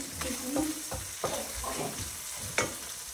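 Eggs frying in a pan give a soft, steady sizzle, with a utensil stirring and scraping in several short strokes close by and no one speaking.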